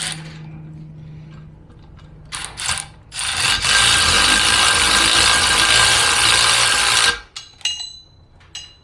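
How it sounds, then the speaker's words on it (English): A power tool tightens the plate on a Ford 8.8 rear axle fitted with 9 inch ends: a few short ratcheting bursts, then a loud, sustained whirring rattle for several seconds before a few trailing clicks. "we're going to tighten the plate up a little bit"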